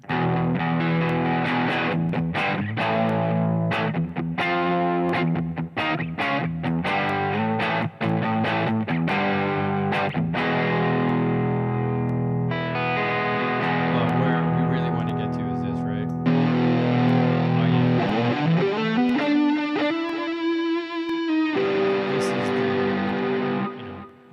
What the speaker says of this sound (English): Now we got snapshot 2, which has the a little bit of distortion here.